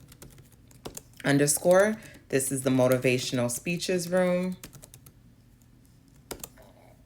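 Soft taps on a computer keyboard come in sparse clicks at the start and end, while a person talks through the middle and largely covers them.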